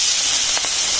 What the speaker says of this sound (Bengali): তেল গরম হয়ে গেছে, দিয়ে দিচ্ছি মাছ